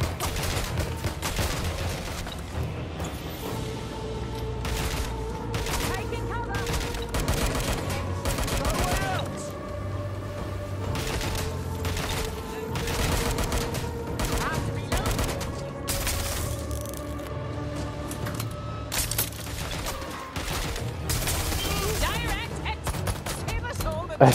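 Repeated gunfire bursts and impacts from combat in the open-world game Watch Dogs: Legion, crackling steadily over a droning music bed with scattered booms, loud and close throughout.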